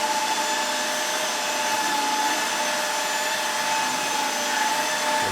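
A Neakasa PowerScrub II cordless wet vacuum runs in silent mode as a constant, loud airy whir with a steady tonal whine, unbroken and heard alone at close range.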